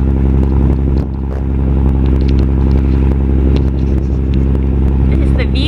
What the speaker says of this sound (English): Sorry for the engine noise, but we're leaving.